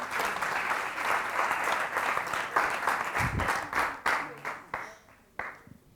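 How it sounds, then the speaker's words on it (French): A live audience applauds a school contestant during the elimination round of a televised summary-writing contest. The clapping is dense and continuous, then thins into scattered claps before it fades out. "Sous vos applaudissements, s'il vous plaît."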